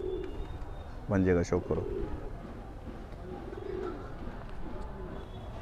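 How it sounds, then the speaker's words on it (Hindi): A Motiwal golden pigeon gives a short soft coo under steady background noise, while someone speaks briefly over it. "ये देखो दोस्तों मोतीवाल गोल्डन कबूतर"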